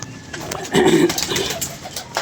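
A short, low pigeon coo rises briefly over faint outdoor background noise in Lahore.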